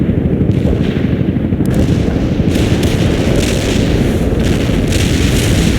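A heavy artillery barrage in a war video game, dense overlapping booms and blasts rumbling continuously and loudly, close and with no voices.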